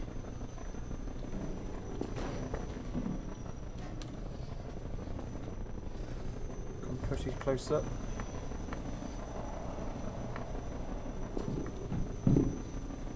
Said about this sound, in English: A helicopter outside trying to shoot me